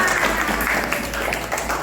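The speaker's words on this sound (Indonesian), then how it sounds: "tepuk tangan untuk kita semuanya" Brief, loud clapping from a classroom audience during a religious studies lesson, a dense continuous patter of hands heard up close with voices mixed in.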